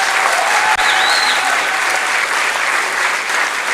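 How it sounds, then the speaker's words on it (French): Audience at an improv show in Paris applauding loudly and steadily, a dense wash of clapping throughout. "on peut les applaudir très très fort s'il vous plaît."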